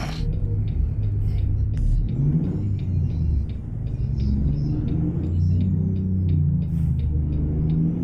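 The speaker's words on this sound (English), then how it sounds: "Trying to brake torque this one and it won't brake torque" A truck engine revving hard while the driver holds the brakes to brake-torque it, a loud steady low rumble that swells and dips slightly, close and continuous, with a whine running above it.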